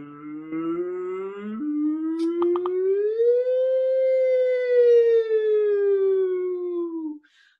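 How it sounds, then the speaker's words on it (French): A long rising and falling wail like a civil defense siren, bending upward and holding steady before it cuts off abruptly, loud and alone with no talk. "quand un camion de pompiers ou un auto de policier ou une ambulance passe, ils sont en train de faire toutes les notes du piano"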